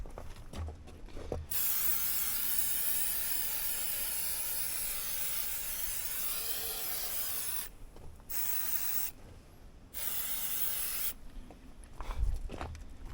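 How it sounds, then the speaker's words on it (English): An aerosol can of protective film spray, used in tractor repair, sprays in long continuous hissing bursts, with a few brief pauses between sprays, close and fairly loud. "We're going to spray our film in there."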